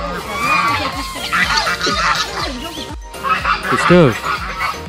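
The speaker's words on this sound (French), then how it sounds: "Je sais pas ce qui se passe avec les canards là-bas, mais mon compagnon, elle a la guerre canard." A group of ducks outdoors quacks and squabbles noisily. Loud, rapid nasal quacks pile on top of one another, close by, and a voice can be heard speaking among them.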